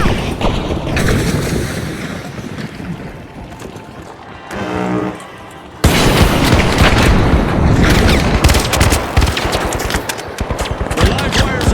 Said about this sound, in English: Gas grenade out!